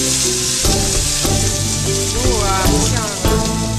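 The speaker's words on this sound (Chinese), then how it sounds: "还下锅用油煎" Small triangles of sliced bobo bread pan-fry in oil, giving a steady close sizzle with music-like tones running beneath it.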